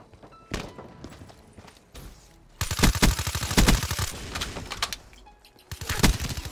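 Rapid bursts of gunfire from a Call of Duty: Black Ops 3 multiplayer match, starting as scattered shots and building into dense, loud automatic volleys with a brief lull before another burst.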